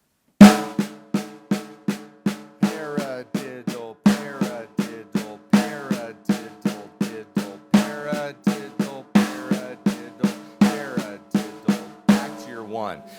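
Snare drum played in paradiddle and paradiddle-diddle sticking patterns: a steady stream of crisp, close strokes with regular accents that repeat evenly for the whole passage, with no talking.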